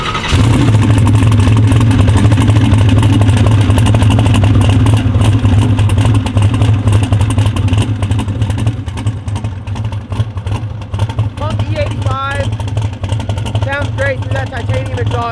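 A 1600hp twin-turbo Mustang with titanium exhaust idles loud and close, with a steady rumble and clatter throughout and some revving blips toward the end.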